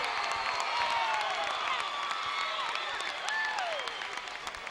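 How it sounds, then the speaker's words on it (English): A high school basketball crowd at a Fremont away game at Angola cheers and claps loudly in a gym. The roar is dense and continuous, with whoops and whistles rising above it. "That's a Fremont crowd that you hear right there."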